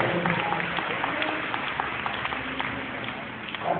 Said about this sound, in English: Let's clap our hands and praise God for this.